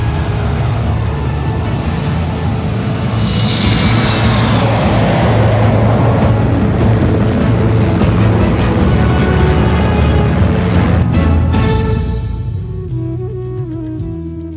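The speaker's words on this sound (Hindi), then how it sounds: "जैगुआर विमान अमृत महोत्सव के 75वें वर्ष की आकृति बनाते हुए आसमान में दिखाई देंगे।" Jaguar jet aircraft fly past at the Republic Day parade, a loud sustained roar that holds steady for several seconds before it begins to fade away.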